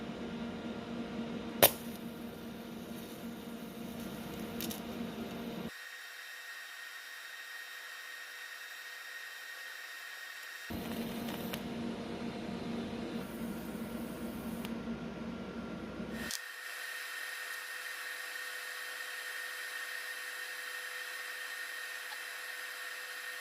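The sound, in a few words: TIG plug welding two steel pieces together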